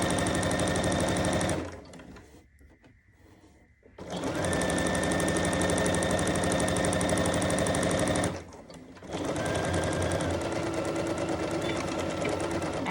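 A sewing machine stitches a half apron, running in steady continuous bursts with two short pauses where it stops, loud and close, with no talking.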